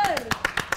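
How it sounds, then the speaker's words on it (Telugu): Hands clap in a steady, quick rhythm during a film team's studio interview, with about five crisp claps following a brief voice at the start. "Clap let's clap."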